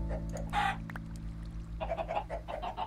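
Minecraft chicken clucking in a short burst of several clucks, fairly close, over a steady low game-ambience hum.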